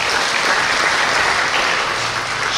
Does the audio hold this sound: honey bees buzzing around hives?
no